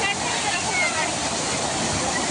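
Water pours over the Kalamba lake spillway in Kolhapur, a loud steady full-band roar that fills the scene. Nobody talks over it.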